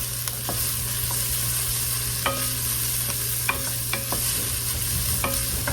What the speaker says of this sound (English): I just want to caramelize those onions a bit, soften the celery a bit